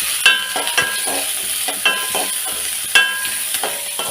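Sliced onions sauté in a hot pan for a Kerala drumstick thoran, giving a steady close sizzle broken by several sharp scrapes and knocks of a spoon stirring against the pan.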